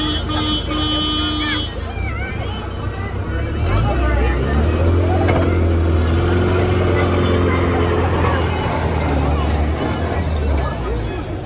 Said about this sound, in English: It's a car, starts off in land and it goes into the water